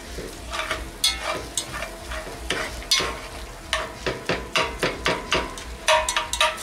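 Ground meat browns in a pan while a utensil breaks it up, giving repeated sharp scraping and tapping strikes over a steady frying sizzle, close and fairly loud.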